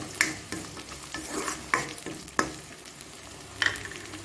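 Onions and green chillies are stir-fried in a pan for a vegetable poriyal, a busy sizzle punctuated by repeated spoon knocks and scrapes against the pan, with no talk.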